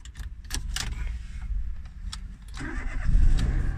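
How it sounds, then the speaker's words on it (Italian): Citroën C1 2013 engine cranking and starting after a freshly duplicated key is used, with keys jangling and clicks first, then the engine catching and settling into a low idle close by. "Vediamo se accende il motore."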